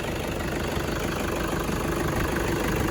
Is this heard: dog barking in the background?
no